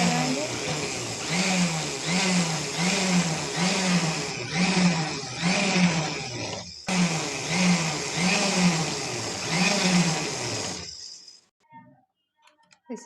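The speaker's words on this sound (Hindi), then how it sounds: "सिलाई लगाएंगे।" Sewing machine stitching the folded hem seam of a girl's frock, a close rhythmic mechanical whir in repeated bursts with a brief pause, stopping near the end.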